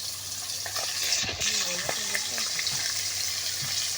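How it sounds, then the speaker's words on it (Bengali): Pangas fish fries in its own rendered oil in a hot pan, a close, steady sizzle with crackles and a few clinks and scrapes from handling. "পাঙ্গাস মাছ আর যা তেল বের হয়েছে সেই তেল দিয়ে মাছ ভাজছি"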